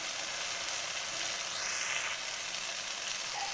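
A small amount of cumin seeds fry in a pan of spiced okra and potato curry, making an even, fairly quiet sizzle that runs unbroken throughout with no voices.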